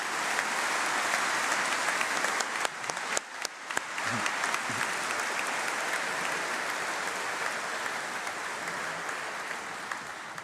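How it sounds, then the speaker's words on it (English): Sustained applause from a large graduation congregation fills the hall, a dense steady wash of clapping that holds for about ten seconds, with a few sharper claps standing out early on. "let's give a huge round of applause to everyone, particularly those on stage who've helped you get here today"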